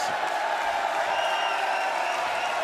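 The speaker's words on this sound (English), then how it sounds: "you can hear the fans, and they're cheering because a foul was finally called" Basketball crowd at a FIBA women's Olympic qualifying game between Hungary and Canada, cheering and applauding steadily after a foul call, a loud sustained roar of the arena.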